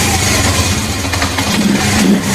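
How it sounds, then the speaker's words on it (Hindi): A Honda 70 motorcycle engine with its air filter removed starts and runs in a close, loud, uneven mid-pitched putter, with no talk. "बाइक में स्टार्ट करता हूं, बाइक मिसिंग जरा भी नहीं करेगी।"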